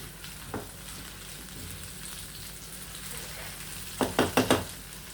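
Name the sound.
turkey berries sautéing in coconut oil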